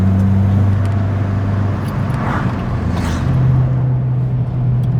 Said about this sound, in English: All right, so I'm driving McRib's EP3